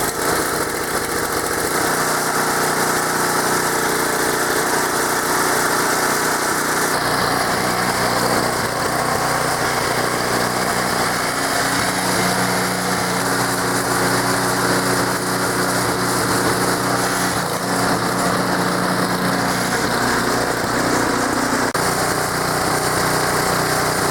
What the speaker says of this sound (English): It's been sitting all summer, so choke it, turn it on, give it a whirl.